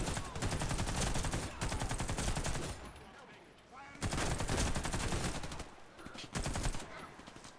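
Machine gun in the AC7 video game fires in long rapid bursts, loud and close, with a short gap partway through before the firing resumes; voices talk underneath.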